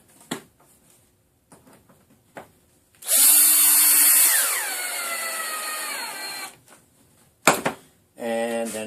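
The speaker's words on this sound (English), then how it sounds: "Doesn't matter where you drill it." A power drill whirs loudly for about three seconds as it drives a screw into wood while building a pet exercise wheel, pitch dropping as it bites, with brief clatters and tool handling around it.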